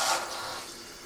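Water rushes from the opened drain valve of a Rheem heat pump water heater, a steady hissing flow that starts loud and close, then eases slightly but keeps running without pause.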